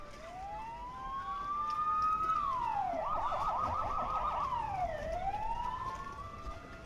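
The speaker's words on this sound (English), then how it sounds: "I hear many sirens approaching the motel." Sirens wailing near a motel, a rising wail that shifts into a rapid yelp and then back to a wail, moderately distant and steady throughout.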